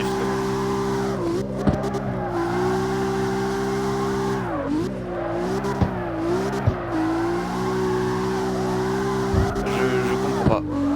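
Car drifting in the CarX Street video game, a steady engine drone with shifting pitch, occasional revving dips and short tire squeals, loud throughout under someone talking.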